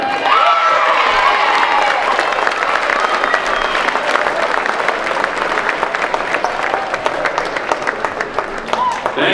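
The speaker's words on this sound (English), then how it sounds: "Round of applause again." A crowd applauds and cheers at a girls' high school basketball tournament in a gym, sustained loud clapping mixed with shouts and excited children's voices throughout.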